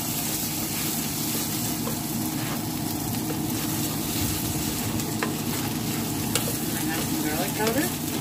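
Tilapia and rice with marinara sizzle and get stirred in a frying pan, a steady close crackle of frying with occasional scraping and clinks from the utensil.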